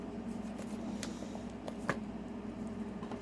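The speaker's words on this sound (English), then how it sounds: "The next deck I will be shuffling from will be our Santa Muerte Tarot." A Santa Muerte tarot deck is shuffled in soft, quiet riffles with a few sharper card snaps, over a low background hum.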